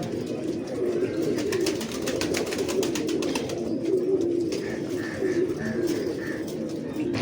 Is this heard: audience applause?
no